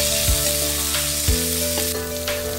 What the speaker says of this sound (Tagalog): Una ay igisa yung bawang,